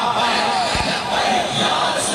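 A crowd at a religious gathering in Sharaqpur, Pakistan, shouts slogans in unison at a sermon by Khadim Hussain Rizvi; a loud, dense roar of many voices fills the brief stretch.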